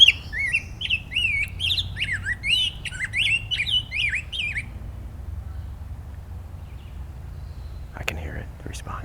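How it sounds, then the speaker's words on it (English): A rose-breasted grosbeak song played from a phone bird app in the woods, a rapid run of bright warbling phrases lasting several seconds before stopping abruptly, followed by quiet ambience and a couple of faint clicks. "Just off in the distance, I hear a grosbeak."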